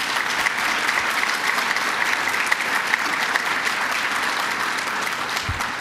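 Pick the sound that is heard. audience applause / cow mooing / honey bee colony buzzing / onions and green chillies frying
audience applause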